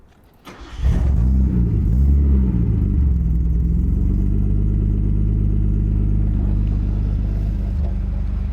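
A vintage Nissan Skyline's carbureted engine, fitted with a choke, catches almost immediately and settles into a loud, steady idle close by, with no talking over it.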